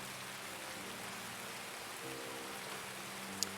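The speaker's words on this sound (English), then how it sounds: "that's going to make the rain not annoying" Steady, soft rainfall in the video game Escape from Tarkov hisses evenly throughout, with one faint sharp tick near the end.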